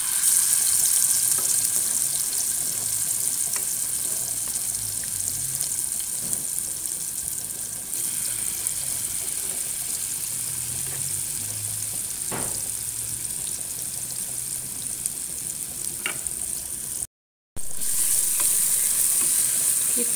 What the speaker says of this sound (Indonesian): kita tumis ya guys. Panaskan sedikit minyak, lalu masukkan bumbu yang sudah kita haluskan tadi